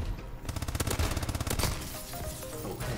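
Rapid automatic fire from a KF5 in the video game Call of Duty Advanced Warfare rings out as a dense, fast burst of loud shots, followed by fainter game effects.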